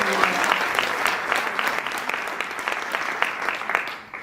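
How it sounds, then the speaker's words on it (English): Audience applause at a political party event in South Africa, a crowd clapping steadily with some individual claps popping through, fading out at the very end. "Please give her a round of applause."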